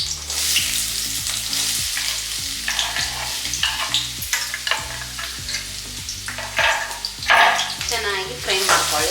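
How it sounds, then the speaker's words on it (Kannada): Chopped onions and green chillies frying in oil in a pan, a steady close sizzle with scraping stir strokes, a low rhythmic background hum running beneath and a few brief voice-like bursts. "ಅದನ್ನ ಸಣ್ಣದಾಗಿ ಹೆಚ್ಚಿಟ್ಟಿರುವ ಈರುಳ್ಳಿನ ಹಾಕ್ತಾಯಿದ್ದೀನಿ."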